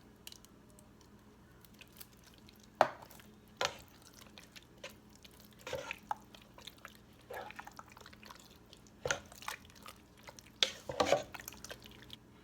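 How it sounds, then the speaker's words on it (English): Brunswick stew with crushed tomatoes stirred in a pot, giving soft scraping and sloshing strokes at irregular intervals over a quiet background. "I'm going to stir that up"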